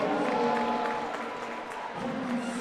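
A crowd cheering for Dale City at an early-morning high school track meet, a steady, moderately distant wash of applause and voices.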